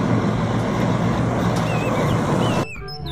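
A container truck head rolls past close by, a loud, steady road roar that cuts off abruptly near the end.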